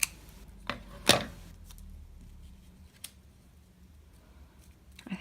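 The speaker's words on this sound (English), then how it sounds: "That's quite a long tie, I think, so I'll cut it, trim it a tiny bit." Scissors trim a paper tie shape for a pug-and-tie bookmark, giving a few soft isolated snips close by, with a sharper cut early on and quiet pauses between them.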